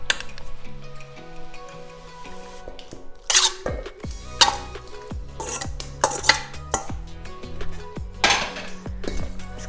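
Chicken being mixed into a marinade paste in a bowl, with clinks and scrapes of a utensil against the bowl and several sharp knocks, close by, over soft background music.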